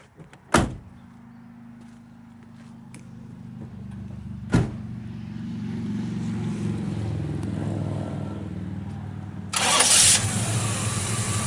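A 1972 Chevrolet Nova SS with a 350 V8 cranks and fires up, settling into a steady, rumbling idle heard up close, with a couple of sharp door-like thumps before it starts and a louder burst of exhaust near the end.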